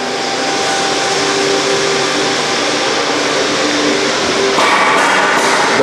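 Vacuum dust collection system running on a bandsaw, a loud steady roaring whoosh of suction close by, constant throughout with a slight shift near the end, no talking.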